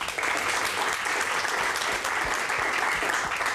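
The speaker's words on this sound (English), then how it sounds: "they need a round of applause" A meeting audience gives a round of applause for the speakers at a closing address, dense, sustained clapping from many hands filling the room evenly and loudly from start to finish, with no voices over it.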